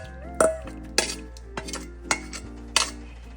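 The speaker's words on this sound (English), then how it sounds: "Once you're adding, you're gonna stir while you're adding that to the pot" A spoon clinks and scrapes against a cooking pot while cornmeal is stirred in for Jamaican cornmeal porridge, giving five or six sharp metallic knocks at an uneven pace, close and fairly loud, with no talk.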